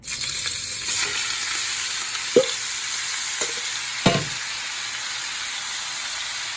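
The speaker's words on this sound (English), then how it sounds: "I added a little bit of olive oil to the pan. It's on medium high, and then I'm just gonna put it into the wok." Cheesesteak ingredients fry in olive oil in a wok over medium-high heat, a steady dense sizzle with a few sharp clanks of stirring over it.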